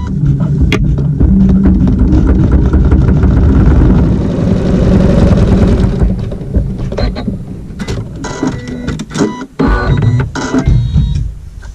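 A sewing machine stitches a seam in pink quilt fabric, its loud, steady mechanical whir running close and continuous before it breaks into a more stuttering, uneven rhythm.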